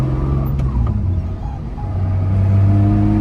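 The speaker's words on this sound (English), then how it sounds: "See, it's just driving like a stock is300 right now." A Lexus IS300 fitted with a small turbo cruises at low revs without boost, giving a steady, fairly loud engine drone and road rumble that swells slightly toward the end, with no talking.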